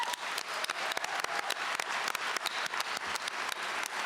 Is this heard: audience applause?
yes